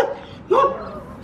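A dog barks once sharply in the middle, close and loud, with faint background noise before and after.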